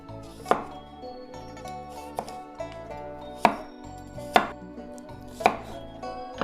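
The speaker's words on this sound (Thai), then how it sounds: "แล้วเดี๋ยวเราก็จะมาหั่นเครื่องนะคะแล้วก็เอาไปผัดค่ะ" A knife chops ingredients for fried spring roll filling on a cutting board, sharp thuds spaced roughly a second apart, close and clear, with no talking.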